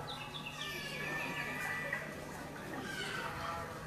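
Birds chirp and twitter continuously in the background, thin high calls overlapping against a steady ambient hum.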